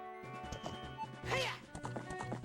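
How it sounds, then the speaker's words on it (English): Horse hooves clip-clopping in the video game The Legend of Zelda: Ocarina of Time, a quick rhythmic clatter of steps alongside a brief whinny-like call, mixed with game music. "Oh, Link, get on the damn horse."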